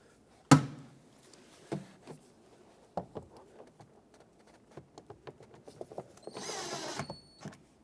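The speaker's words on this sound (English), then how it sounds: "Now let's put the bottom two screws in." Screws driven into the plastic interior door panel of a 2009-2014 Ford F-150: a sharp knock, then a run of small irregular clicks and creaks, closing with a brief whirring burst, close by.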